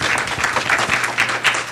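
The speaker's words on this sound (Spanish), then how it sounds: "un aplauso para nuestro expositor" An audience gives loud, sustained applause for a speaker at the close of a conference session, dense and close with no pauses.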